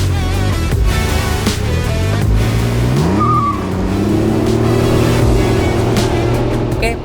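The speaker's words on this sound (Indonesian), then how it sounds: "BRP Can-Am Ryker 900." BRP Can-Am Ryker 900 three-wheeled motorcycle with a loud, steady engine drone and a brief rising-then-falling pitch swell in the middle, continuous throughout.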